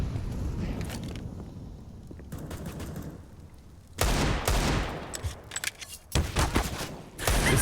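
Gunfire in Counter-Strike: Global Offensive on the Nuke map during a pro match, bursts of sharp close rifle shots fired through a wall, several loud rapid volleys separated by quieter gaps.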